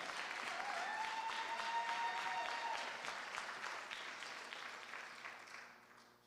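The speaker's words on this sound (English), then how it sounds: "Let's give Shelley another round of applause." An audience at a school district awards ceremony applauds an administrator-of-the-year winner with steady, dense clapping that holds strong, then slowly thins and fades near the end, with a faint sustained tone in the background.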